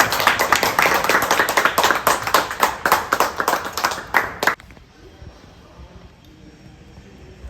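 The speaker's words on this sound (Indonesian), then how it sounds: "Hai, tepuk tangan." A group clapping hands in unison at a farmers' group gathering, dense steady claps for about four and a half seconds, then stopping abruptly into quiet room ambience.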